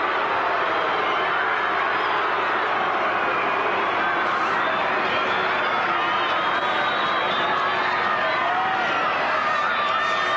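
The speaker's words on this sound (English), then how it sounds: "I'm certain the crowd are letting the referee know just what their feelings are at the moment" A large rugby crowd at a 1987 World Cup match between Australia and Japan roars steadily in protest at the referee over a disputed Australian try, a continuous dense wash of voices held at a constant level with no pauses.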